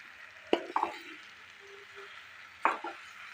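Chopped taro leaves tumble into a hot frying pan of spices and get stirred, giving a few sharp clattering scrapes, separated by pauses, over a faint low sizzle, with no talking.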